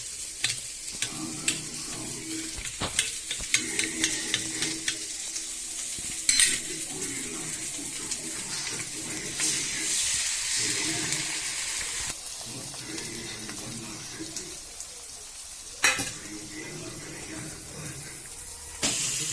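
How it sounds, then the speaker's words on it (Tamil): Egg and chilli mixture is stirred while it sizzles and fries in a pan, with a steady crackle and scattered clinks and scrapes of the utensil against the pan. "இப்போ நம்ம நல்லா கிளறலாம்."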